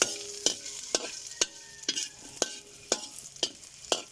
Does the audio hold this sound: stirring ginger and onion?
yes